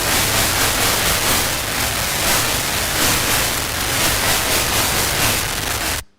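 Sonified firing of a single human neuron recorded during sleep: a steady, loud, dense hiss like rushing noise, continuous and unbroken for six seconds before cutting off abruptly, with no talk.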